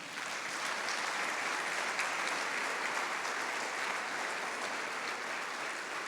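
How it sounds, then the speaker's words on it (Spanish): A church congregation applauds during a Spanish-language service, an even wash of clapping held steadily at a distance throughout. "¿Le puede dar un aplauso al Señor?"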